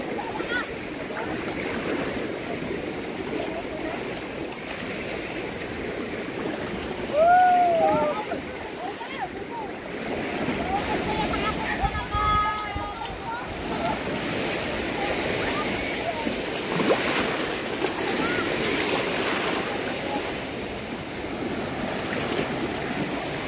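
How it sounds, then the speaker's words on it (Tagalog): Sea waves roll and wash in steadily at Dumangas, Iloilo, a continuous surging roar with swells building; someone speaks briefly over the water. "lumalakas na po ang ating alon"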